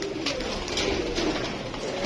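Pigeons coo continuously in a rooftop loft flock, a soft, steady low burble layered from several birds close by, with no talk over it.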